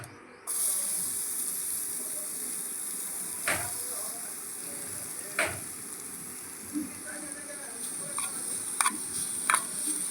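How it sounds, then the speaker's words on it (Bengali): Soft, steady sizzling of chhena cooking in ghee in a pan for a sweet chop made with flattened rice, with occasional light clinks and scrapes from gentle stirring. "এবার এটা আলতো হাতে হালকা হালকা নাড়বো, খুব বেশি নাড়ার প্রয়োজন নেই।"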